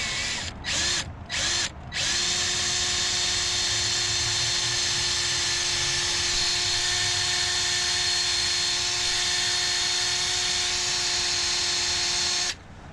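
A power drill bores a pilot hole into a Harley-Davidson touring kickstand, a few short trigger bursts followed by a long, steady high-pitched whine, loud and close, ending abruptly.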